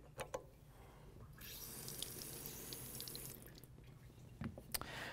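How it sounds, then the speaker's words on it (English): Water flushing from test cock number 2 on a backflow preventer during a test procedure: a steady hissing spray of moderate loudness, starting with a few drips and spurts and then holding for several seconds before tapering off. "flush test cock 2"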